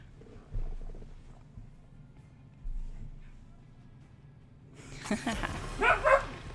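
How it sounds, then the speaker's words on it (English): Near the end, a dog barks at another dog indoors: a short cluster of sharp barks and yips, loud and close, following several seconds of low background noise. "So I apologize if you hear the woofs in the background."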